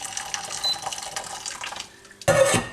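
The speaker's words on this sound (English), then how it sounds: "I'm going to add boiling water to the base of the pan" Boiling water is poured into the base of a saucepan on a hob, a steady splashing trickle that runs for a couple of seconds, breaks off, then returns in a louder, fuller gush.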